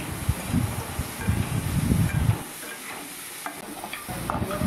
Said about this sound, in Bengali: লবণ আর হলুদ দিয়ে ভাজবো, তাহলে আলুটা তাড়াতাড়ি নরম হয়ে যাবে